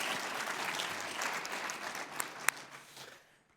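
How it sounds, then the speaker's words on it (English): An audience at a conference on AI and emerging technology applauds steadily, a dense wash of many hands that holds for a few seconds and then fades away, with a couple of sharper claps standing out near the end. "A big applause for Steffi Czerny."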